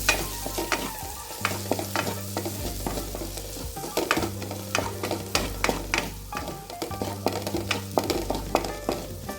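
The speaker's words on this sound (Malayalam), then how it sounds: "എല്ലാം കൂടി ഒന്ന് മിക്സാക്കി നന്നായി ഒന്ന് ഇളക്കിയെടുക്കാം" A beaten egg mixture sizzles and fries in a pan while it is stirred, with a steady frying hiss broken by repeated scraping strokes in an uneven rhythm, close up.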